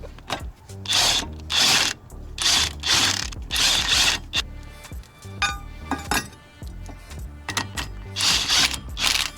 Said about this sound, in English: So after using the impact wrench to seat these hub assembly bolts down